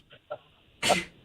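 Near the end, a person in a radio studio lets out a single sharp sneeze, close and fairly loud, after two short quiet breathy sounds.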